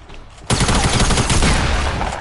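Rapid burst of gunfire in Fortnite erupting suddenly after a quiet moment, loud dense shots rattling on for over a second.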